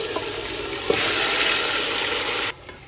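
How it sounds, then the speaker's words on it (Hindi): Marinated chicken added to golden fried onions in a biryani pot over high flame gives a loud, steady, close sizzle that holds evenly, then cuts off abruptly near the end. "हम इसमें मैरिनेट किया हुआ चिकन डाल"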